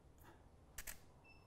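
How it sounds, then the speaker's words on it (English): A camera shutter fires once in a quiet room, a crisp double click close to the microphone, preceded by a faint soft handling noise. "And fire the shutter"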